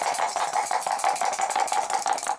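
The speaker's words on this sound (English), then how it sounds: "She'll be rolling 2 dice." Two dice are rolled for a Dawn of the Zeds board game, giving a dense run of rapid, bright clattering clicks that tumble continuously for a couple of seconds at close range, with no talking.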